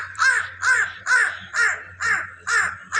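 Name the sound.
crow cawing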